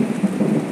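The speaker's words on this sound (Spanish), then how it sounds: "Se escuchan relámpagos. Ok, lloviendo torrencial aguacero." Thunder rumbles through torrential, pouring rain in Venezuela, a loud and steady downpour with low rolling booms swelling and easing across the short stretch.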